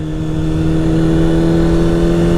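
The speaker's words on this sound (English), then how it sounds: "You can listen to the bike, listen to it getting louder." A motorcycle engine climbs steadily in pitch and loudness as it accelerates before an upshift, a loud, close, continuous drone with no talk.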